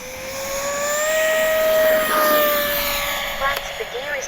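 A Kavan Skyfox L-39 RC jet with an outrunner-driven fan taking off downwind on its maiden flight, a loud rising whine with steady tones that swells and then eases as it climbs away.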